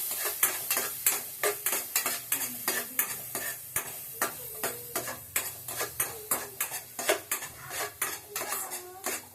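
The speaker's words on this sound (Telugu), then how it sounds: "రెండు వేసిన తర్వాత కొద్దిగా ఫ్రై చేసుకోవాలి." Chopped ginger and garlic frying in a pan, stirred with a metal utensil that makes a steady run of sharp clinks and scrapes against the pan over a soft sizzle, close by with no talking.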